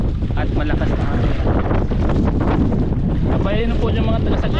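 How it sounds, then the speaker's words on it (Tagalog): Strong wind buffeting a boat at sea in big waves, a loud continuous roar with gusting surges and rushing water, with voices speaking underneath. "Hangin lang po yan, hindi pa yan alin."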